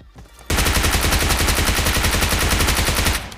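Rapid automatic gunfire in a battle royale shooter, a loud, close, sustained burst of evenly spaced shots lasting about three seconds after a brief quiet start.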